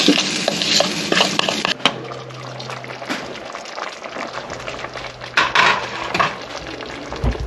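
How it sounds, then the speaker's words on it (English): A spoon or spatula scrapes around a bowl during cabbage stew preparation, close, irregular clinking and scraping strokes over a low background hum. "trying to get your bowl scraped clean"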